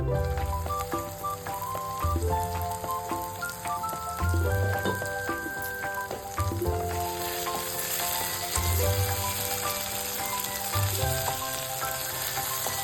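Ridge gourd frying in a covered pan, a continuous busy sizzle with scattered pops, accompanied by soft background music.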